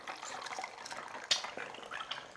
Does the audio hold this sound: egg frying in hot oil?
yes